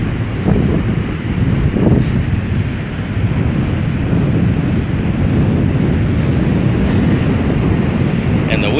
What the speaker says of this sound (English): And the wind just keeps getting stronger.